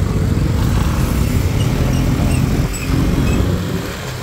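Motorcycle and vehicle engines roar steadily on a shortcut highway between Parañaque and Zapote, Bacoor, Cavite, a loud continuous drone of passing traffic with a brief dip near the end.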